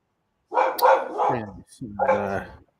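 Dogs give a few short barks and yips, close and fairly loud, in two quick bursts with a brief pause between them.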